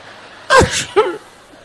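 A human voice imitates a sneeze, a sharp two-part burst, loud and close, alone without other talk.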